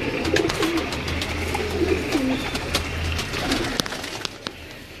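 Pigeons on a Lahore rooftop loft give short, soft coos in the first half, fading toward the end, with a few sharp clicks and taps nearby.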